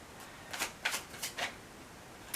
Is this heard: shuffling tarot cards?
yes